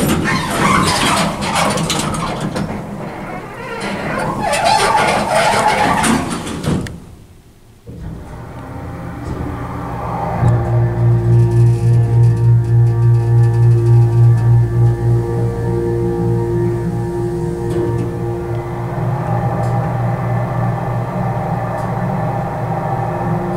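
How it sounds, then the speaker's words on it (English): Generic EPCO elevator motor in a building on Douglas Blvd, Roseville, California, starting with loud rumbling and squealing, then settling into a steady, prominent tonal hum and whine that runs continuously to the end. "That was a nice ass motor."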